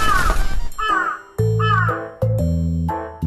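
Repeated crow caws from an escape game, several harsh calls in a row with chunky low thuds punctuating them, fairly loud and close.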